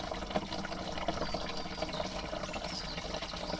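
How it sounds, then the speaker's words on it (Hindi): Water from a waterfall runs down over rocks and collects in a bucket beneath it, a steady close trickle and splash that carries on without a break. "झरनों से पानी देके चट्टानों से बहता हुआ किस तरह से बाल्टी में धीरे धीरे एकत्रित हो रहा है"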